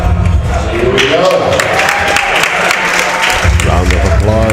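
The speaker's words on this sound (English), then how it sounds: "Round of applause." Crowd applause at a weightlifting national championship, loud sustained clapping with some cheering, while an announcer's voice talks over it throughout.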